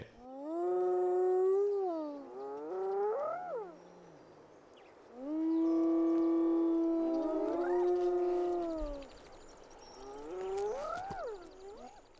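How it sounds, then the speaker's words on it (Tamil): Hyenas near a pride of lions call out to embolden one another. There are three long, loud, wavering calls with rising and falling whoops, each separated by short pauses. "கழுதை புலிகள் ஒன்றையொன்று தைரியமூட்டிக் கொள்ளும் வகையில் ஒலிகளை எழுப்பத் தொடங்கிவிடுகின்றன"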